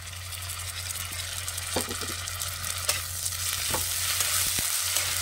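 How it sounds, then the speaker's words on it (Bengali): Onion sautéed in a pan with ginger, garlic and green chili paste sizzles steadily and loudly, broken by occasional scrapes and clicks of stirring, with no talking. "এবারে সব একসাথে কিন্তু ভালো করে আমি কিন্তু একটু কষিয়ে নেবো"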